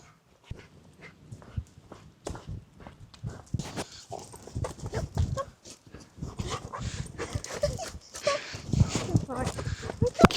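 A dog whimpers and barks restlessly in an echoey space, with scuffling, clattering movement and people talking throughout.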